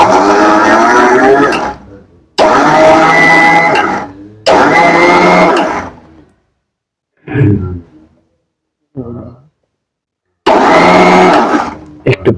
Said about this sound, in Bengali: একটু সুইচটা দিয়ে দাও ব্লেন্ডারে।